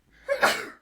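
A single sharp human sneeze, close and loud, rising from a short intake into a bright burst that fades within a second.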